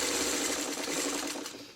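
A sewing machine runs a continuous fast stitching whir through a quilt block out to the fabric edge onto a leader-ender scrap, close and steady, easing slightly at the end.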